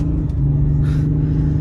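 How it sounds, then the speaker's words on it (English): A car passes by nearby, its steady low engine rumble and road noise filling the clip at constant loudness, with a faint brighter swell in the middle as it goes past. "there was a car coming"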